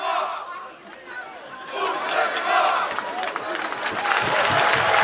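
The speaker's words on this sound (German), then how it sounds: "das ist euer Applaus für dieses wunderbare Gefühl und dieses wunderbare Bild." Crowd noise at Europe's largest Roman festival, Schwerter, Brot und Spiele, during the pompa parade, as the audience applauds and cheers in a swelling roar mixed with shouting voices.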